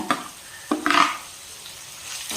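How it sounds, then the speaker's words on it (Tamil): Onion, ginger garlic paste and tomato sautéing in a pan for poha biryani, with soft sizzling and a few scraping stirs, the loudest a short burst near the middle. "இதே நல்லா வதக்கிக்கலாம்"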